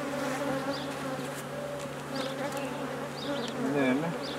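Honeybees at a mating nuc make a dense, continuous buzz close by, with individual bees flying past and a faint voice in the background.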